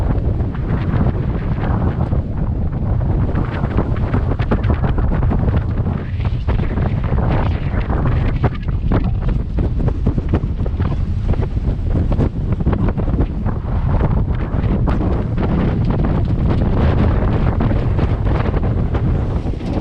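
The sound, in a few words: wind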